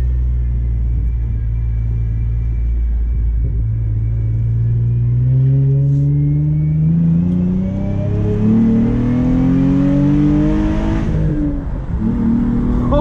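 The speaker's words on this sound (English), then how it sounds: "Oh, and the burbles and pops." A Hyundai Genesis 3.8 V6 exhaust rumbles loud and close while driving, the engine note climbing steadily as the car accelerates, then crackling and dropping off near the end.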